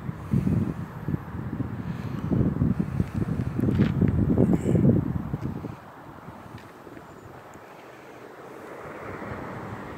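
Strong wind gusting across open, flat, treeless ground, buffeting the microphone in loud rumbling bursts for about six seconds before easing to a softer steady rush.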